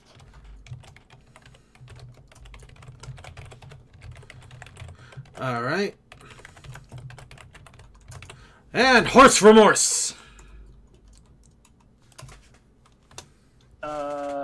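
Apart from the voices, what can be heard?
typing on a computer keyboard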